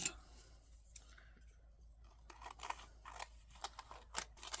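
Scissors cut a sheet of glue dots in half, a few quiet, close snips and clicks at an uneven pace against a faint background, with no talking.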